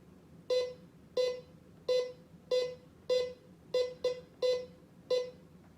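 A TackLife MMD05 metal detector beeps over a socket buried in a foot of sand: nine short, clear electronic tones at a steady, near-even rhythm over faint background hiss, with no talking.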